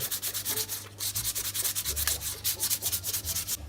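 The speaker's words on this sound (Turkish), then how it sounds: "ince bir zımparayla iyice o aldığımız kısımları düzelteceğiz" Steady rhythmic sanding, a fine sandpaper rasping back and forth over tree bark in quick even strokes, close up with no voices.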